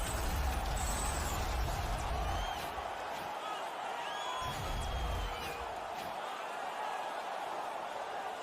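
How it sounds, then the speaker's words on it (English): A hockey arena crowd roars and cheers after a Calgary Flames fight, a dense, sustained wash of noise from the whole building that swells early and then holds steady, with whoops rising above it. "The Flames have given their fans something more to cheer about."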